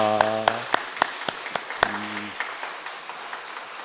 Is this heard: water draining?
no